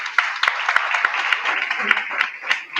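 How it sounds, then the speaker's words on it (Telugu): A church congregation claps together during Sunday worship, a dense run of applause with sharp individual claps standing out, loud and close for a few seconds. "ఒకసారి దేవుడికి చప్పట్లు కొడదాము."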